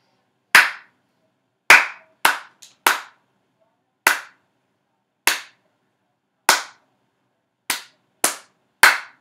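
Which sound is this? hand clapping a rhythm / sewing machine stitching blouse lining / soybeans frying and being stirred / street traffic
hand clapping a rhythm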